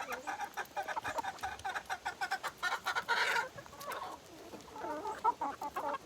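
Chickens clucking close by in a rapid, choppy series of short calls, with a busier burst of overlapping squawks midway and softer clucks toward the end.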